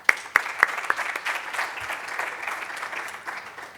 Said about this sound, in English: round of applause for Ricardo.